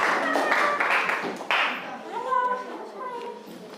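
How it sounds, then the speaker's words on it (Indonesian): Children in a classroom clap for group 1, a dense burst of applause mixed with young voices that fades as a child's speech takes over. "Ya, tepuk tangan untuk kelompok 1"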